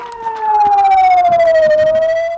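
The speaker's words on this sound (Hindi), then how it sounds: "और फिर गूंजी सायरन की आवाज।" A loud air raid siren wails in Israel, its tone sliding slowly downward and then levelling off, sounding near and unbroken.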